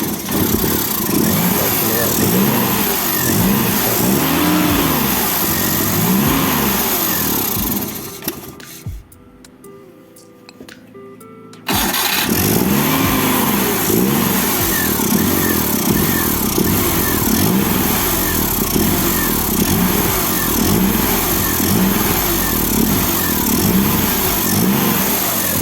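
A car engine fitted with a motorcycle carburetor runs loud and steady close by. It drops out briefly and then resumes at a constant rough idle.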